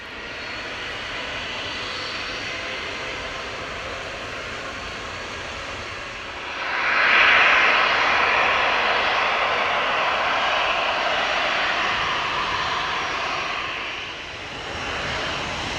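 A Boeing 777 freighter's jet engines roar during a departure from Manchester Airport, a broad sustained rumble that swells in the middle as the aircraft passes, then eases slightly, heard from a distance.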